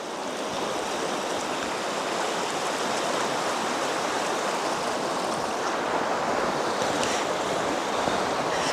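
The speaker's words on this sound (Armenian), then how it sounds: "հանդարտ իր հունով, ջուրը չի սառել, դե հոսող ջուրը չի սառում" River water flowing steadily in its bed through snowy winter countryside, a continuous broadband rush with some wind noise, alone and unbroken.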